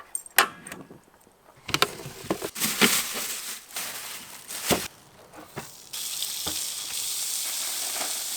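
Steak sizzles on a camp stove at a campsite, a steady frying hiss that swells into a louder, continuous sizzle in the second half, broken by a few sharp clinks and knocks of utensils.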